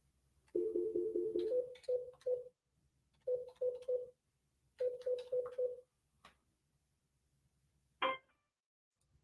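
Touch-tone keypad dialing a telephone number: short, clear beeps fired in quick bursts of several tones, then pauses and more groups, ending with a brief click near the end; close, clean and without talk.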